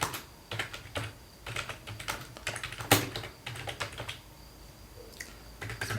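Computer keyboard keys clatter in quick irregular bursts as someone types an SQL function, close and fairly quiet, with brief pauses between runs of keystrokes.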